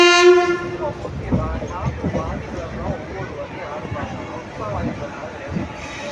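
A train horn sounds briefly at the start as the train arrives at Nagapattinam Junction, then a steady rail rumble continues as people talk over it.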